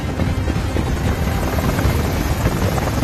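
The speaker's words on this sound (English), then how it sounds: "Langston rushes to a helicopter with Carla and David already inside." A helicopter's rotor thunders steadily and loudly throughout, a close, continuous low chopping drone with no speech.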